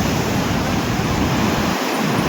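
Roaring sea waves break steadily on a beach shore, a loud, continuous wash of surf with a brief low-end dip near the end.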